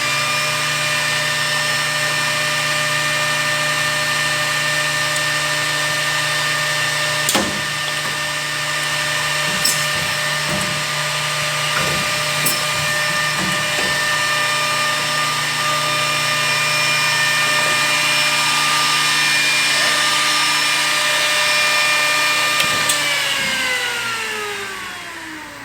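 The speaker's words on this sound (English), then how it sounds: "Kevin's going to start the machine, and we'll run the panel and apply the half-mil PVC." An edge bander machine runs steadily, applying half-millimetre PVC edging to a panel: a loud, continuous motor whine with bright sustained tones, a few sharp clicks and knocks as the panel feeds through, and the pitch winding down at the end.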